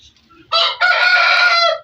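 Chickens at feeding time give a few soft clucks, then a loud, close rooster crow rings out for about a second and a half.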